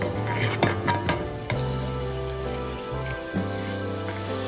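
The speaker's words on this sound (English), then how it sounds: "add chopped garlic and saute until golden" Garlic chopped and sautéing in two tablespoons of oil in a skillet: a steady close sizzle with low humming tones underneath, broken by a few sharp scrapes and taps of stirring near the start.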